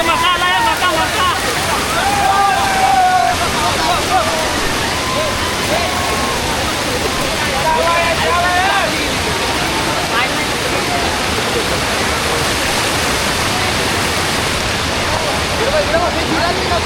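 Kondeshwar waterfall roars in a steady, loud broadband rush of falling water throughout, with people talking and calling out over the constant torrent.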